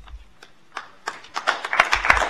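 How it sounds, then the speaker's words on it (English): Applause from the audience at a Fresno Unified school board meeting, scattered claps at first that build into steady, fairly close clapping from a crowd. "Please, let's hold our applause, please."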